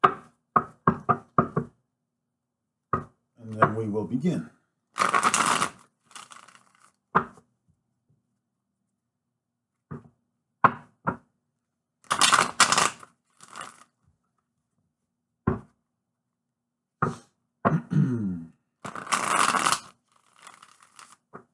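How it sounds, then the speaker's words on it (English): Bursts of papery riffling and crisp card snaps come in clusters with pauses between them, close by, and a voice briefly speaks near the end. "We're just going to go ahead and do one more little shuffle."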